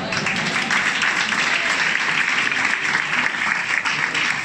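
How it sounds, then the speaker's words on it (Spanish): Steady, sustained applause from an audience after an improvised lyrical poem, dense clapping filling the whole stretch at even loudness with no pauses. "El público está aplaudiendo."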